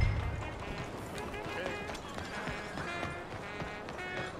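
Horse hooves in Red Dead Redemption 2 patter in a quick running rhythm, faint and close, mixed in with game background sounds.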